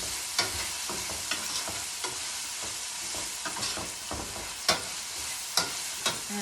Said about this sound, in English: And we're going to stir fry that. And the olive oil.